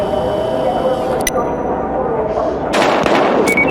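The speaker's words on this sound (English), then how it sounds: "We've got gunshots." Gunfire from the video game Battlefield Hardline: sharp, loud cracks about a second apart, with a burst of shots near the end over a dense combat background.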